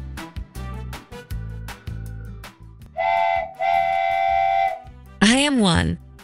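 A cheerful toy-style train whistle sounds in two sustained toots and then a rising and falling whistle, over a bouncy children's tune with a steady beat.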